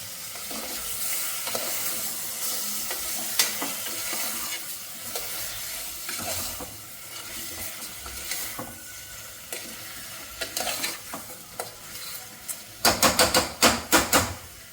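Raw washed chicken, unseasoned, sizzles and fries steadily in a pot for chicken pulao, with continuous crackling hiss and occasional stirring scrapes, ending in a burst of sharp clattering stirs.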